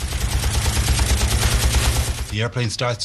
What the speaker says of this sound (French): il peut s'approcher à 60 mètres des chasseurs avant d'ouvrir le feu avec ses mitrailleuses